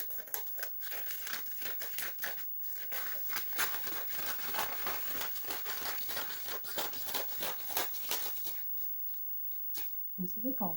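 Scissors slice through gift wrapping paper, mixed with crinkling and rustling of the sheets. Quick rhythmic cuts run close and fairly quiet, then trail off into a few sparse snips and handling sounds.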